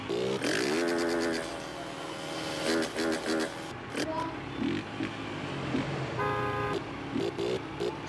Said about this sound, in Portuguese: Sabia que aquele carro ia buzinar